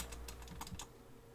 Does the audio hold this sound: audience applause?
no